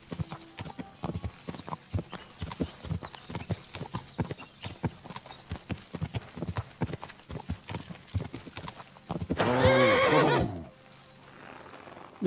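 Horse hooves clip-clop steadily in Kingdom Come Deliverance II, a long run of rhythmic footfalls, then a loud, close neigh near the end, with a brief quiet after it.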